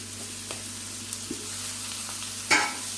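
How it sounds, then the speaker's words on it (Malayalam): Onions sautéing in a pan for a Kerala-style egg curry give a steady, low sizzle throughout, with a couple of brief clinks and stirring scrapes, one louder scrape near the end. "ഇതിലേക്ക് നമുക്ക് ഈ സവാള ഇട്ട് കൊടുക്കാം. ഇത് നല്ലപോലെ ഒന്ന് വഴറ്റട്ടെ."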